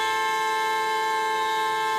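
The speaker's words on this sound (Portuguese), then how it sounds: "teve motorista afundando a mão na buzina" A steady, sustained car horn blares continuously without a break in a traffic queue at fuel stations in Foz do Iguaçu, loud and unwavering over faint background noise.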